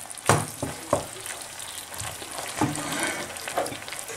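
Ground beef sizzling in oil in a pot, a close crackling fry broken by a few sharp clanks and stirring scrapes, with no voices.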